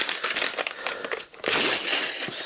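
Crinkling plastic from a Hasbro Indiana Jones toy bag being opened: close, loud rustles and crackles, a brief pause, then a sustained crinkle.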